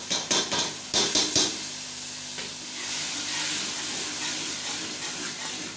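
Fenugreek leaves hit a hot pan and sizzle, a steady bright hiss that follows a few clattering knocks of a utensil and continues evenly to the end.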